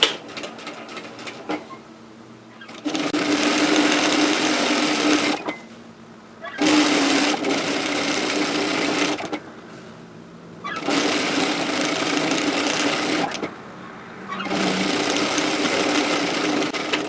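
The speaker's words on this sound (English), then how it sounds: "we're going to sew a seam to fix this raw edge" A sewing machine stitches a 1 cm seam along a tote bag strap, its fast rattling whir running in four long bursts separated by short pauses, loud and close.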